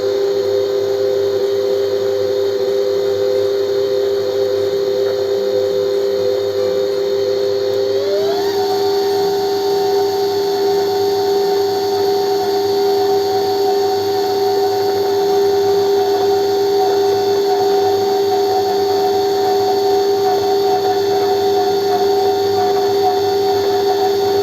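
An electric mixer whirring through naan khatai biscuit dough, a loud steady motor whine that steps up in pitch about eight seconds in as the speed rises to level 3, then holds constant.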